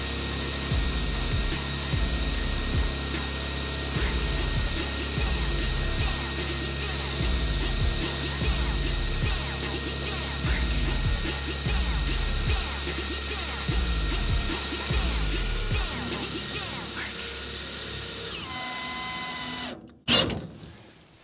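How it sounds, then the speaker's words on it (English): A cordless drill drives the screw mechanism of a Neo-Dyne motorcycle lifter, a steady whirring hum broken by repeated rhythmic clunks for most of the span, then stopping abruptly near the end. "Pop on the drill and away you go."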